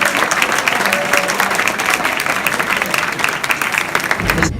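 An audience applauds the Sarasota Celebrity Dancing Stars at a Community AIDS Network red carpet gala, with steady, dense clapping throughout and faint crowd voices mixed in.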